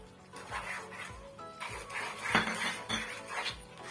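Jackfruit halwa with sugar being stirred in a pan, a spoon repeatedly scraping and clinking against the metal in a steady rhythm, close and moderately loud with no talking.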